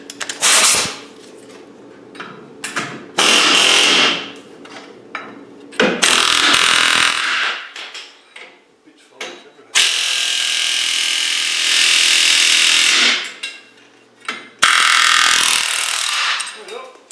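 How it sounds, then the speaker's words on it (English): Pneumatic air chisel hammering at a seized rear brake drum whose lining has come off and jammed, loud rattling bursts in several long runs separated by short pauses. "let me put the air chisel on it. I might be able to get it with the air chisel and pull it at the same time"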